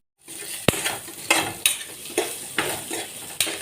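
Green chillies and cumin sizzle steadily in a pan, and a spoon scrapes and stirs them in sharp, repeated strokes roughly every half second.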